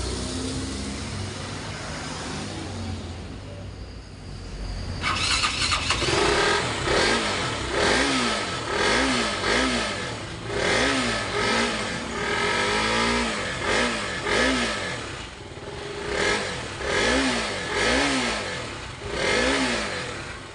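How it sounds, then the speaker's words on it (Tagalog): A KTM Duke motorcycle that had trouble starting is push-started after fuel is added: steady rolling noise first, then the engine catches around five seconds in and revs repeatedly in loud rhythmic bursts, close by. "So try na natin susahan at push start natin."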